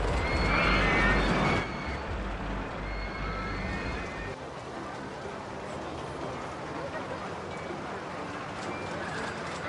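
A horse neighs loudly in the Rollercoaster Tycoon 2 theme park game, a burst of whinnying at the start that fades into a busy bed of park ambience and crowd chatter.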